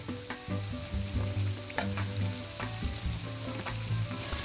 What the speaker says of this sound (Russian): Закрываем крышкой и жарим на среднем огне до появления румянца